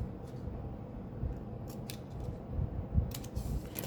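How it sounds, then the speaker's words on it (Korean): Scissors snip small notches into the 1.5 cm seam allowance of a fabric collar pattern piece, with quick light cuts repeating close by over a soft background. "다 가위밥을 내주시면 돼요"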